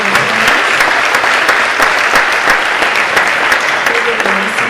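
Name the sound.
applause for contestants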